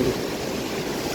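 Flood water of the Mahanadi river rushing past, a dense, continuous roar of churning water with a strong low rumble, loud and unbroken.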